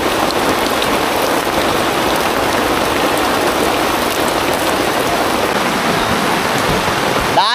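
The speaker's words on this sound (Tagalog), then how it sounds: "Lakas ang ulan." Heavy rain pours down in a dense, loud, unbroken roar of drops hitting surfaces, steady throughout with no voices.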